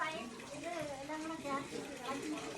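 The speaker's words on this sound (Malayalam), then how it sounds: "ചിക്കൻ ഒഴിച്ചു വെച്ച വെള്ളം ഒഴിച്ചു കൊടുക്കുകയാണ്" Water is poured into a pot of chicken being cooked for biryani, a continuous gurgling splash under overlapping voices.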